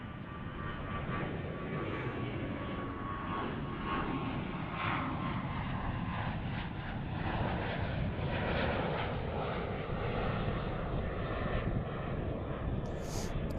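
A Boeing 737-800 jet airliner departs from DFW International Airport, its engines producing a steady, broad, distant roar that holds evenly throughout with no voices.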